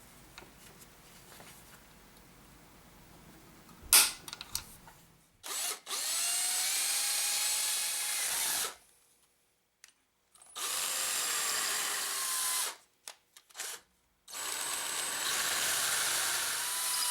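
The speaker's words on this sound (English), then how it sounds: "Go ahead and mark my hole so I can drill the last mounting bolt right here." Power drill boring a mounting bolt hole while building a DIY grinder slider jig, heard up close in three long whirring bursts separated by short pauses, with no talking.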